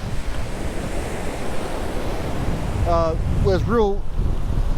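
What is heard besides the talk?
strong wind and surf at the beach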